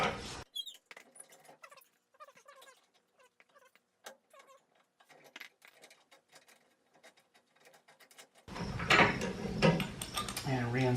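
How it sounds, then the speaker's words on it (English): A wrench handle working a turnbuckle loose on an Arctic Fox 811 truck camper: a long run of quiet, close, irregular metallic clicks and scrapes, ending with a sudden louder burst of broadband noise. "to loosen that turnbuckle, I put the handle of one of the wrenches in here"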